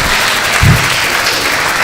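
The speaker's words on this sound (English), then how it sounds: "another resounding round of applause to the Vice Chancellor, University of Ibadan" A crowd applauds at a valedictory lecture ceremony at the University of Ibadan, a loud, dense wash of clapping that holds steady for the whole stretch.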